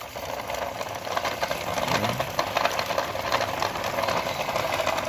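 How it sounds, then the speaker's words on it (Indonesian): A coconut grater machine runs with a steady motor hum and a faint rhythmic knocking, continuously at moderate level with no voices. "Jadi ini dia mesin pemarut kelapanya, dan kelapa akan dimasukkan dari sini."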